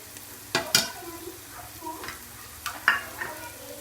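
Frying in a pan while cooking egg biryani, a soft background sizzle punctuated by several sharp spatula scrapes and clinks against the metal, close by.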